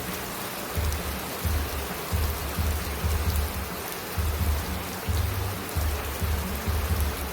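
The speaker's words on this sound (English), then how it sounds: "At night, the rain taps soft and slow." Steady rain falling, an even hiss of drops with low pattering thumps repeating in a loose rhythm throughout, moderately quiet with no voices.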